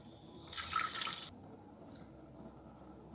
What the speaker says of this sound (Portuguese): Vou colocar aqui mais um pouquinho de água.